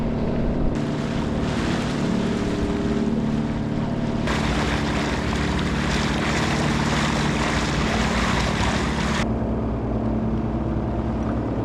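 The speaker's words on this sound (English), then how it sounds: "There's no wind, so we put the engine on" A sailboat's small engine drones continuously at close range on a windless sail off the Isle of Arran, Scotland, a steady low hum with some rushing noise layered over it partway through.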